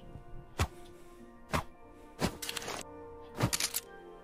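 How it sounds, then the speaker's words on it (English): Four sharp mechanical clacks and thunks from a video game weapon reload, spaced about a second apart with some metallic rattles between, close and crisp with no talking. "Weird reload animation"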